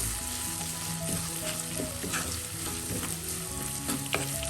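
Ingredients for papaya thoran are stirred and fried in a pan. A loud, steady sizzle carries throughout, with a spoon scraping and tapping the pan close by at an uneven pace.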